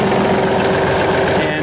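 A tractor-driven wood chipper, just serviced, runs with a loud, steady mechanical hum and a fine rattling vibration, close by, unchanging throughout.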